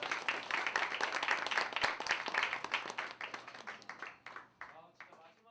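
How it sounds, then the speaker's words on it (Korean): An audience at a maker gathering breaks into dense applause that gradually thins and fades away over several seconds. "박수 부탁드립니다."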